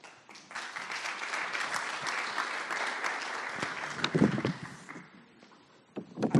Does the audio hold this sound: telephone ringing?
no